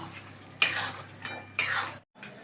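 Boiled mutton pieces being stir-fried for kosha in a pot give a few quick scraping, clattering strokes over a soft sizzle, close up, ending in a brief silence.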